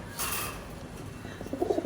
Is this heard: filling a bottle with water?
no